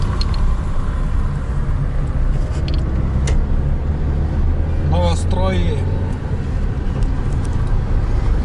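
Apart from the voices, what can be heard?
busy city street traffic, many cars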